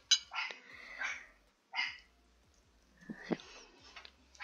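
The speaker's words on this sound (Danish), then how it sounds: "hvis I kan høre noget i baggrunden, så er det altså vores hund" Pet dog barking and yipping in a home while a Fortnite game is played, several short sharp barks in irregular bursts, fairly faint and somewhat distant, with no talk over them.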